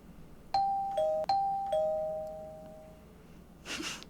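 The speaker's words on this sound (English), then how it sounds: "Smash that doorbell." Doorbell in the White Album 2 visual novel rings out as chimes, three or four sharp two-tone strikes close together with ringing decay, followed by a brief rustling noise at the end.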